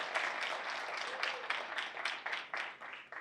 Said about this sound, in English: can we give a round of applause to the leadership team of Russell County School District?